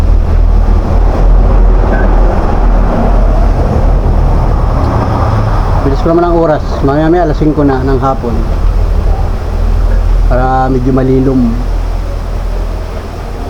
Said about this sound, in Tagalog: Malakas pati ang hangin, no?